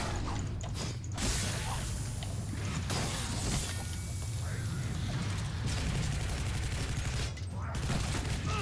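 Gunfire in the PC shooter Shadow Warrior rattles in rapid mechanical bursts mixed with clicking weapon sounds, continuous and fairly loud, with a player talking faintly at times.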